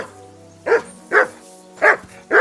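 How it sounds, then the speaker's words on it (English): Dog barking in the medieval game Kingdom Come: Deliverance II, four separate barks in a steady spaced rhythm, fairly loud and close, with a low background hum. "Henry, whistle at that mutt of yours to stop barking."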